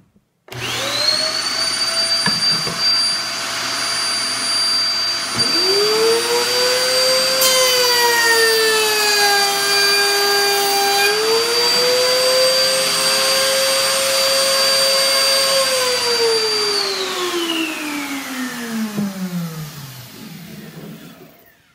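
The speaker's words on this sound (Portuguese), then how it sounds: "Vamos ligar o aspirador primeiro." A shop vacuum mounted at a workbench with a Makita trim router starts up with a whine that rises to a loud, steady tonal roar, shifts pitch partway through, then winds down as it is switched off.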